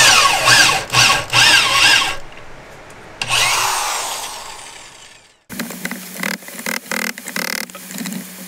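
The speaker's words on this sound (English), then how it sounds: "This drill and bit just makes such a world of difference." A power drill with a bit bores into a timber mailbox post in bursts of whirring and grinding. After a pause it gives a rougher, scraping run close by.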